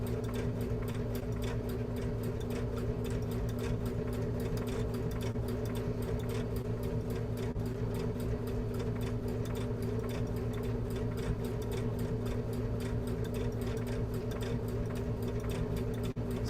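Sewing machine stitching fabric for a small bowl project, a steady fast mechanical hum and rapid needle ticking running continuously and evenly at close range with no talk.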